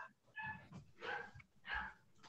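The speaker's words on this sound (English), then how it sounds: "Sorry, my dog's barking." A dog at home barks and whines in a few spaced, muffled bursts, fairly faint and somewhat distant, with breathy sounds between them and no talking.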